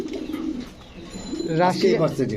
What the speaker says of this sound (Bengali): এটা হচ্ছে শ্যালো কবুতর